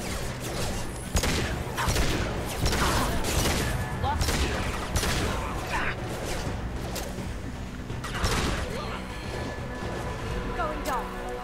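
Phalanx pistol gunfire in the video game Mass Effect 2, with repeated sharp shots and impacts over loud, busy combat noise, and a voice talking throughout.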